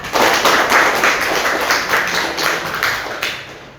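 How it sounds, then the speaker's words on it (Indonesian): Children in a classroom clap their hands together in a steady run of bright, rapid claps lasting several seconds, loud and close, with no talking over it. "berarti tepuk tangan untuk kita semua anak-anak"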